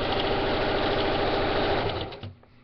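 A sewing machine stitches fabric for a doll bedding set, its steady, rapid mechanical whir running loud and close before stopping abruptly near the end.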